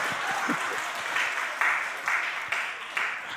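Audience clapping in rhythmic bursts, roughly every half second in a regular beat, with voices murmuring and laughing underneath.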